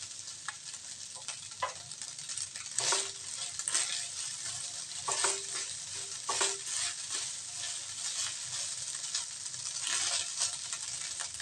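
Fried rice with spring onions and eggs sizzles softly in a pan, broken by intermittent scraping and stirring strokes of a utensil.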